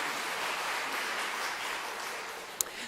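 A church congregation applauds in a Korean Methodist service, a dense, even wash of many hands clapping heard from a moderate distance, sustained throughout without voices over it.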